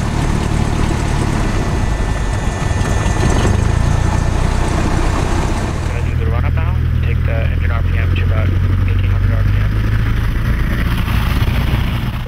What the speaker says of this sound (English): It starts by taking the engine to 1800 RPM, checking the left and right magnetos respectively.